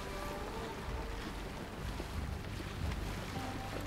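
A boat sailing through wind on open water in the video game Assassin's Creed Origins, with a steady low wash of wind and water and soft creaking, fairly quiet and continuous without talk.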